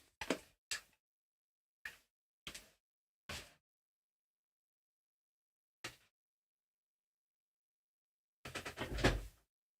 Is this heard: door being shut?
yes